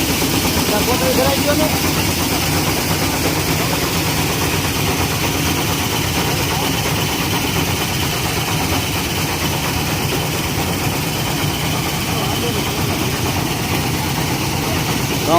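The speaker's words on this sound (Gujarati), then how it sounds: "ટ્રેક્ટર પાસે જોડી અને આ મશીન આવે છે અને ચોખ્ખા કરી નાખે છે" A tractor-driven thresher cleaning wheat runs as a loud, steady engine drone with constant mechanical rattle and vibration, close by and unbroken from start to finish.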